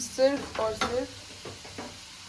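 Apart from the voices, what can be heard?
onion and garlic frying for dal tadka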